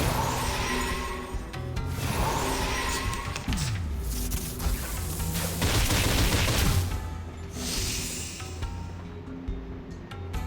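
Rapid bursts of gunfire from the video game Reverse: 1999 crackle and boom in dense volleys, loud and close, mixed with crashing impacts and swelling effects, with no talk.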